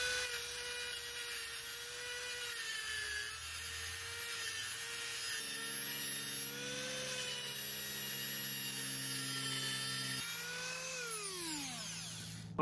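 A Dremel rotary tool cuts a window hole through the metal wall of a bus conversion, a high steady whine with shifting pitch as it grinds, then winding down at the end.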